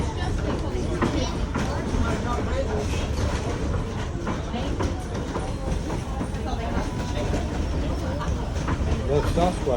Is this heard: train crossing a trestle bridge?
yes